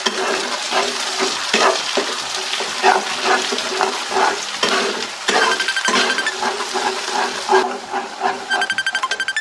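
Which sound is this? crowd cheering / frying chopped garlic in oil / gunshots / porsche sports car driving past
frying chopped garlic in oil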